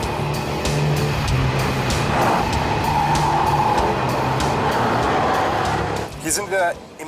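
A new Jaguar XKR with a 5-litre supercharged V8 drives along, its engine droning steadily and loudly from inside the car with some tire noise, and a voice speaks near the end.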